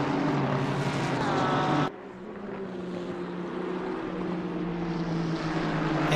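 Race cars in a GT Americas sim race at Kyalami roar side by side in a drag race, a loud, steady engine drone that drops abruptly in level partway through, then holds.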